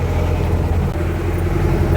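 A jeep drives through water on a rainy road near a waterfall, giving a steady, loud low engine rumble that holds close and constant throughout, with no talk over it.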